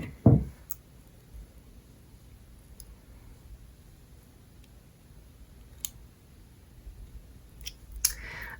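Excess beading wire is snipped while wire wrapping for jewelry, with a sharp click at the start, then sparse faint clicks and a final pair of crisp snips near the end in quiet surroundings.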